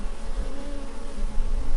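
Honeybees buzzing in a continuous steady hum, close and even in loudness throughout, with no other sounds or voices.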